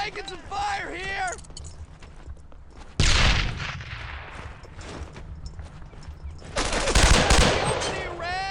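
Bursts of rifle and machine-gun fire in the World War II shooter game Brothers in Arms: Earned in Blood, loud and close, with sharp volleys at about three and seven seconds amid background battle noise and a shouting voice.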